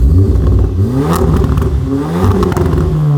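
Loud, close revving from a 4-cylinder car running mufflers and resonators, with the engine note climbing and dropping in quick successive pulls and a raspy, crackling edge.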